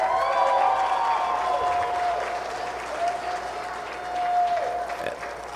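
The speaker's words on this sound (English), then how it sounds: "these exhibitors deserve a big round of applause for being out here" Crowd applause fills the arena at the Howard County Fair 4-H and FFA market swine show, a steady, sustained wash of clapping that swells slightly near the end with no talking.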